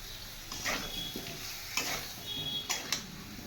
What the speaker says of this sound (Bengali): মশলাটা কিন্তু খুব ভালোভাবে কষিয়ে নিতে হবে